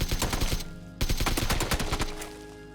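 A suppressed AKM rifle in the PUBG video game fires in rapid automatic bursts, two strings of dense muffled thuds with a short break between them, close and punchy, trailing off into a fading tail.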